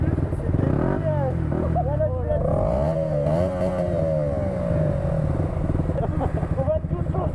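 A new motorcycle engine revs at about 3000 rpm, its pitch rising and falling in loud, close sweeps, with people talking alongside it.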